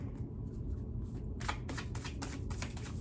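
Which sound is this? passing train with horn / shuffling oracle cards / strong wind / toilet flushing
shuffling oracle cards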